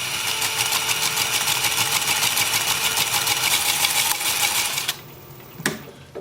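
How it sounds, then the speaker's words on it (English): A wood lathe spins a natural-edge maple bowl at about 400 RPM, a loud continuous rhythmic whirring hum that cuts off abruptly near the end, leaving near quiet with a short clunk. "So I've got the lathe turning about 400 RPM."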